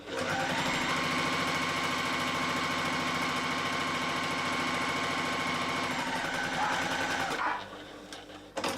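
A sewing machine stitching fabric pieces of a cute bag at a small stitch length runs steadily and loudly for about seven seconds, then stops abruptly, leaving quieter handling sounds.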